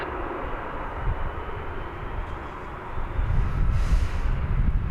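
Airliner engines rumble steadily on a runway at DFW Airport during takeoff, a broad low roar that holds and then swells louder in the last seconds, with no talk over it.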